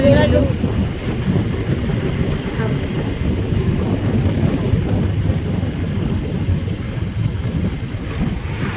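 Wind blowing outdoors on a cool road lined with trees and green fields, a steady, gusty rumble buffeting the microphone without letting up.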